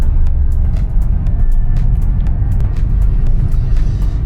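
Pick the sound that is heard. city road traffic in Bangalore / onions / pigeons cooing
city road traffic in Bangalore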